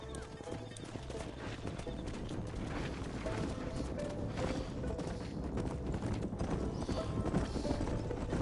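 Horse hooves clip-clopping at a steady riding gait in the video game Red Dead Redemption, a dense continuous patter under faint ambient noise, with no speech.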